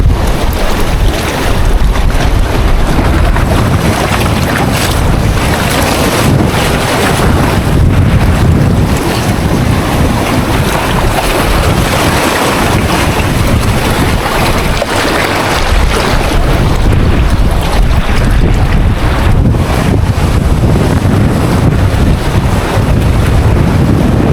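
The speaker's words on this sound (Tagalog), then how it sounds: "Grabe yung lakas ng hangin dito guys." Strong wind at sea buffets a boat on a fishing trip, roaring loudly and continuously across the microphone, with surging waves and water noise underneath.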